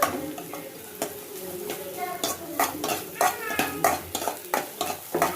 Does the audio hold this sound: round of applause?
no